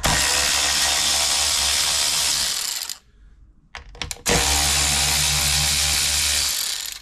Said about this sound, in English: next I'm gonna remove the two T30 fuel rail bolts